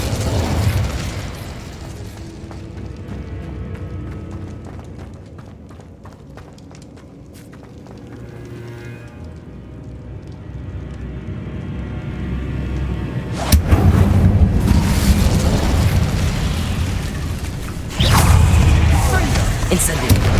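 Fiery spell blasts in the Hogwarts Legacy game, booming and crackling bursts over a rumbling low background, with heavier impacts near the end.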